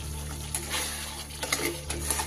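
Tomato masala for rohu fish curry being stirred and fried in a pan until the moisture cooks off: a low steady sizzle under soft scraping strokes of a spoon, close and quiet, no talk.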